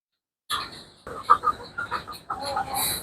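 Large free-range roosters cluck in short, close, irregular bursts, with several birds chattering after a brief silence at the start.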